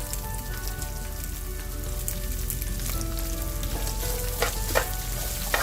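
Okra sizzles and crackles in an open pan after turmeric, chilli powder, cumin and salt are added, with a steady frying hiss and a few scraping stirs near the end.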